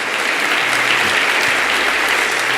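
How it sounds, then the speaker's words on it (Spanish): A church congregation in Colombia applauds the Lord in a steady, dense wash of clapping that stays loud and even throughout, with no voices standing out. "Dale un fuerte aplauso al Señor."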